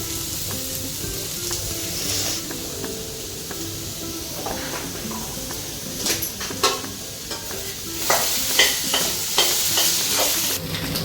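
Potato fry sizzling steadily in a pan, with a spoon scraping and stirring through it in irregular clattering bursts that grow busier toward the end; no talking.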